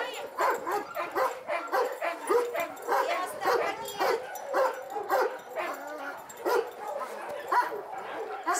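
Many dogs bark, yip and whimper in a steady, repeated rhythm, close and loud, at an animal shelter with dog enclosures in Syktyvkar.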